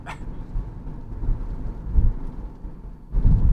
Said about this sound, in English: Oh man, it's raining a lot.